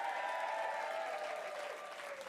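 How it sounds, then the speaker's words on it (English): Comedy club crowd applauding a stand-up act at the Komedia in Brighton, a steady dense wash of clapping that stays fairly even and close throughout with no speech over it. "Round of applause for Jen Brister, ladies and gentlemen."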